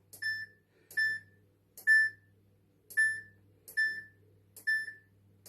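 Samsung WW5300 washing machine chirping as its programme dial is turned: seven short, bright electronic beeps, evenly spaced about three quarters of a second apart, clear and alone.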